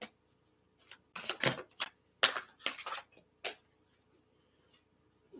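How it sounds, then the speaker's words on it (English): Psychic tarot cards being shuffled, several quick crisp riffling bursts close by in quiet surroundings, clustered early and then trailing off into near silence. "Give it a couple good shuffles though."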